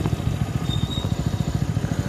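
A motorcycle engine thumps in a fast, even, chugging rhythm on the road, fairly close and steady over the short stretch.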